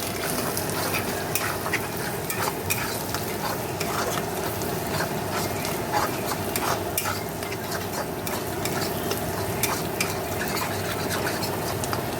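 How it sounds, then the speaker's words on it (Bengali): Steady sizzling of egg frying in a pan, with repeated scraping strokes of a utensil scrambling it throughout, close and continuous. "এবার ডিমটা ভালো করে ঝুড়ি ভাজা করে নেবো"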